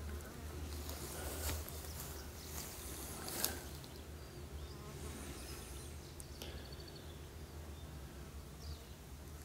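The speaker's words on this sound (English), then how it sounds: "there's bees in there as well." Steady buzzing of many bees and flies swarming close by at a nest inside old farm machinery, a dense droning hum with no talking.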